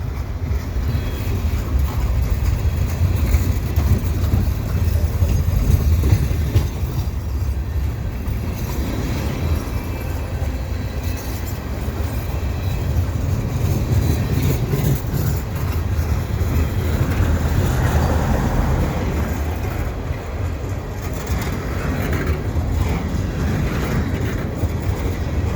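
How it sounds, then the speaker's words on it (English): Several freight trains run past a winter station in Lachine at once, a long continuous low rumble of rolling cars with wind buffeting the microphone and no talk. "So now we got 3 trains running."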